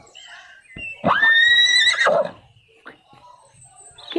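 A horse in the video game Fiete World gives one loud, clear whinny lasting about a second, with a few light clicks and game sounds before and after.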